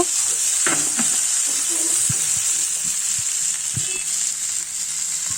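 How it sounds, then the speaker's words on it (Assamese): Pumpkin and potato frying in a pan while being stirred, a close, steady sizzle broken by scraping strokes of the spatula. "অকণমান সময় মই এনেদৰে লৰাই থাকিম। ভজা হৈ গৈছে।"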